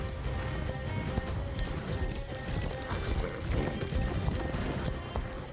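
Horses gallop over open ground in a dense, continuous drumming of hooves, steady and fairly loud throughout, with a faint whinny-like tone in the mix.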